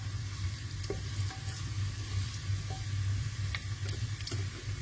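Cumin seeds frying in a pan for Maharashtrian masale bhaat, giving a steady, close sizzle with occasional light ticks and crackles and no talking.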